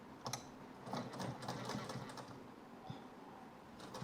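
A sewing machine stitches a turned-over seam on a blouse, a steady close whir running throughout the short stretch with faint clicks over it.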